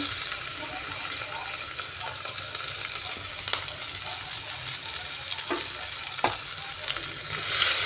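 Chopped onion and ginger fry in a pan for a cabbage dish, giving a steady, close hiss and crackle with occasional stirring scrapes. No one speaks, and the sizzle grows slightly louder near the end.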